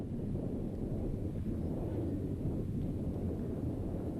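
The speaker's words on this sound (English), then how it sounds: "A windy night at Macedonia Park." Steady wind buffets the microphone at an outdoor women's A-League football stadium at night, a continuous low rumbling roar with no breaks and no voices.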